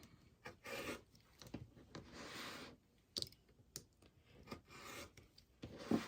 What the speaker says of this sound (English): just going to simply lay that right on there and trim down all 4 sides